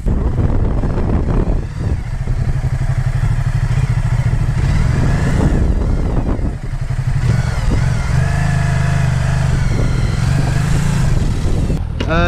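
A Ducati Multistrada motorcycle ridden through winding bends on a police-run riding course, its engine droning loudly and steadily close to the microphone, rising and falling slightly with throttle changes, with wind buffeting throughout.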